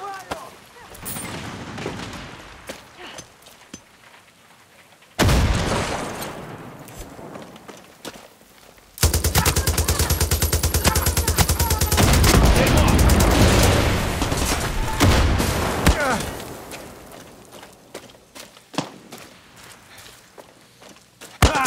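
Gunfire in the open-world shooter Far Cry 6 during a sniper encounter, with dense, loud stretches of battle noise and sharp shots, quieter passages between, and a voice speaking briefly.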